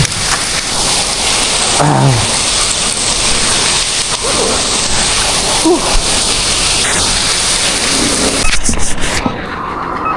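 Heavy rain pours loudly and continuously during a lightning storm while someone tries to restart a stalled e-bike outdoors, a dense steady roar with faint voices underneath.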